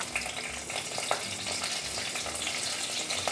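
Curry leaves and garlic sizzling in hot oil in a clay pot while cooking a Tamil banana flower tamarind kuzhambu, a steady crackling hiss with small pops, moderately close and without talk.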